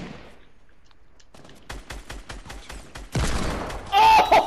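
Rapid bursts of Fortnite gunfire, a quiet opening giving way to a string of sharp, evenly spaced shots, then heavier, louder sustained fire and a bright impact at the end.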